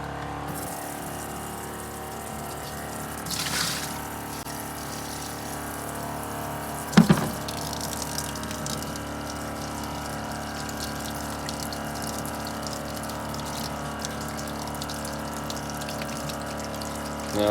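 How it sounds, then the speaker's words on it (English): Water runs steadily through a Joolca outdoor shower and sink fed by a pump, a continuous hiss and gush with a couple of brief knocks midway and no voices. "I'm definitely fighting the water pressure when running both the sink and the shower."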